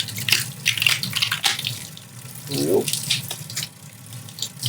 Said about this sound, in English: Start running the water and squeezing.